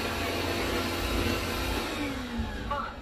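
A robot vacuum whirs steadily with a broadband motor drone and brush noise, close and continuous, with a faint rising tone near the end.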